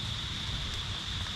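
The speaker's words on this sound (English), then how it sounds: "God dang rain." Steady rain pattering down at a motorcycle campsite, a constant even hiss with no breaks, heard alone at moderate level.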